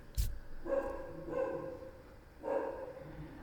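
A dog barks indoors, giving three separate muffled woofs spaced about a second apart, moderately close and otherwise alone, after a brief knock at the start.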